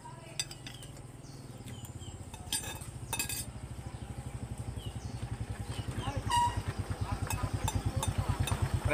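A motorcycle engine idles and revs with a steady low pulsing throb that grows louder and faster toward the end, amid street noise, clinking metal and a distant horn, with people talking nearby.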